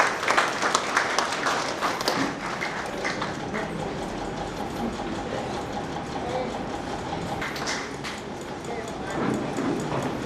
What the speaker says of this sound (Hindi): आप सभी एक बार उस संस्था के लिए ताली बजाएं